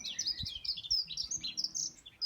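Young canaries in an aviary chirp in quick, high, overlapping tweets, a busy twittering flock heard fairly close but at modest volume.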